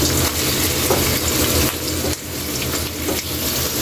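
Pieces of pork fry loudly in a pan for pork binagoongan, a dense, steady crackling sizzle close to the mic with no talking.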